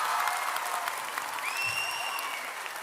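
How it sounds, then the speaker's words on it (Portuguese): A church audience claps warmly for a teenage girl, a steady wash of applause lasting the whole moment, with a brief whistle-like tone rising partway through. "Uma salva de palmas para a Letícia."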